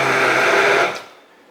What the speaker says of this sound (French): Avec un mixeur à main, je vais mettre juste un petit coup pour bien homogénéiser,